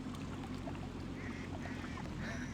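Ducks quack faintly at a duck pond, a few short calls rising over a steady low engine rumble nearby.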